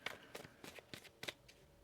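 Tarot cards are shuffled by hand in a quick run of soft, close riffles, about six brief bursts in under two seconds, faint and with no speech.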